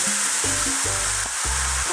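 Beef oxtail sears in a pot with a loud, continuous sizzle, broken by bursts of clattering and stirring as the pieces are turned.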